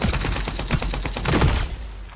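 Automatic weapon fire in the video game FragPunk, a quick continuous string of loud close-range shots in a steady rhythm, stopping suddenly and leaving a short quiet tail.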